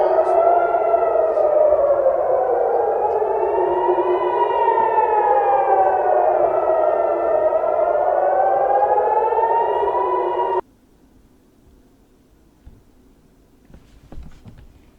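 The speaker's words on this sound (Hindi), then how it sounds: "जिस तरह से यहां पर मिसाइल दागे गए उसके बाद सायरन बजे हैं" Civil defense air raid siren in Israel following a missile attack, a loud rising-and-falling wail that sweeps steadily for about ten seconds, then cuts off abruptly, leaving faint background noise with a few small knocks.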